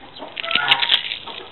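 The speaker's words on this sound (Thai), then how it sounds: "มีเสียงไก่และเสียงห่านนิดนึงนะ" Farmyard chickens with a few geese near a mushroom garden under guava and kaffir lime trees: a short flurry of clucking and wing-flapping, moderately close, with no talk.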